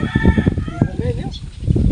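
A nearby bird gives a loud, clucking, crowing call, rising and wavering, while people talk in the background.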